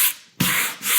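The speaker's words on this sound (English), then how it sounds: "Always love a sanding block." A weighted sanding block rubs across painted wood in two or three close, raspy strokes, each a loud scratchy swish separated by a brief pause.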